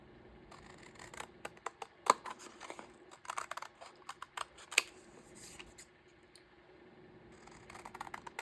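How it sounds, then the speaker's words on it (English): Scissors snip through a paper folder in a series of close, quiet crisp cuts and rustles, irregular in rhythm over several seconds, with no voices. "I'm cutting through both pieces of the folder."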